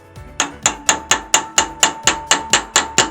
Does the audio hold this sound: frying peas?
no